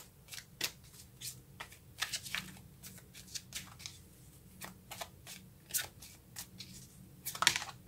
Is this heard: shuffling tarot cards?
yes